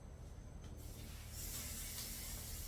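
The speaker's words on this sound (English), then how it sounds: "Nice, a nice little sizzle." A soft, steady hiss of food sizzling on a hot grill starts up and grows louder halfway through, quiet and close.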